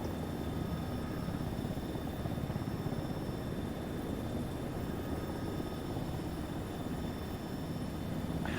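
A helicopter in the military game Arma 3 runs its rotors and turbine as it lifts off, a low, steady, faint thrum that holds evenly throughout with no speech over it.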